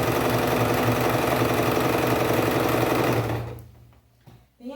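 Domestic sewing machine running a straight seam with a reverse stitch, a loud continuous mechanical whir for about three seconds that then slows and stops, followed by a few faint handling clicks.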